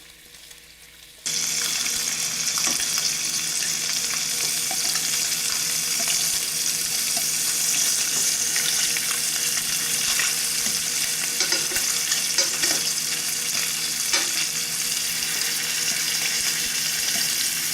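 Sausages brown in a hot pan, a loud, continuous crackling sizzle that starts abruptly after a quiet moment and carries on steadily without talk.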